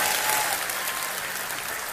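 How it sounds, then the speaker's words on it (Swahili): A church gathering's audience breaks into dense, steady clapping, a full burst of applause sustained for about two seconds without voices. "Tupigie mama Mwangi makofi sana."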